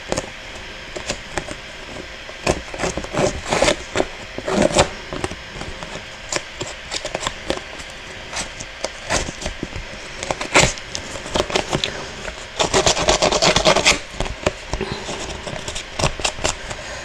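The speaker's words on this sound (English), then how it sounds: "And I'm just shredding this edge so it's just really, really just roughed up." Paper edges are shredded and roughed up by hand during a craft session, making close, irregular rasping and tearing scrapes in quick bursts, with a denser stretch of rubbing near the end.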